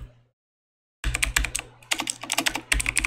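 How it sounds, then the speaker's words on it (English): Fingers tap quickly on a computer keyboard in uneven bursts of close, crisp keystrokes after a brief silence, with no talk over them. "you can actually type out on the keyboard"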